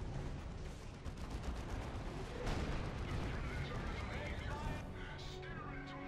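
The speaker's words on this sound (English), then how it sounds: "Predator has its las cannon." A Predator tank fires its las cannon in Dawn of War 2: Retribution, dense rumbling blasts and gunfire crackling throughout a 3v3 Space Marine battle, mixed under continuous game noise and faint commentary.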